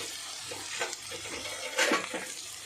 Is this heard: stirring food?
yes